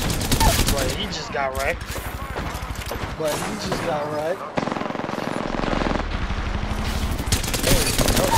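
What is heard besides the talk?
Havoc rifle gunfire in Apex Legends video game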